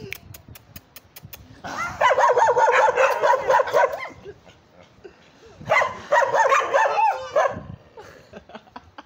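Two dogs barking on a hillside in Pakistan, two sustained bursts of rapid, overlapping barks fairly close, separated by a short quiet gap.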